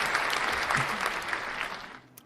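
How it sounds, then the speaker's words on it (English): Audience applause for a performer on a comedy podcast episode, a steady wash of many clapping hands that swells briefly and then tapers off near the end. "another round of applause for Trevor Triggs"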